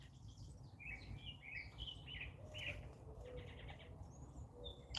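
Birds chirping outdoors, several short bright calls and trills scattered across the clip, fairly close and clear over a low background hum, with no talk.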